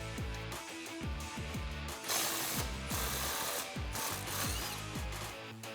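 A ratchet wrench with an 18mm socket loosens the sway bar end link on a 2015-2018 Mustang, giving a series of regular, close mechanical clicks in short bursts under a constant background whir.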